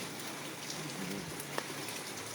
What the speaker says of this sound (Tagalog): Dumaan lang yung ulan eh.